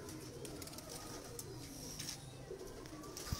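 Faint, steady low cooing from pigeons runs under a constant ambient hiss, with a few light clicks and rustles and no talking.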